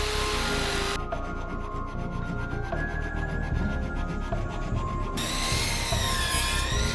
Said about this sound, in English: Checking and planing the edges, I then glued the two pieces together.